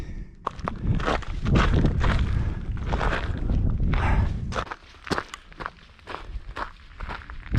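A hiker climbs off trail over desert ground in the Black Canyon Wilderness on the Mojave-Sonoran route, with close, crunching, uneven footsteps and scuffs over rustling wind. The steps grow sparser and sharper toward the end.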